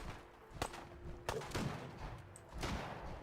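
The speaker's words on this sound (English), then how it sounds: "Where is this gunfire coming from?" In Fallout 4, a few sharp, distant gunshots crack out at irregular intervals over quiet background ambience.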